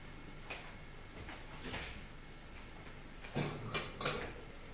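A kombucha scoby lifted out of warm tea and set down on a plate in a kitchen, giving a few soft knocks and light clinks of crockery near the end amid quiet room tone.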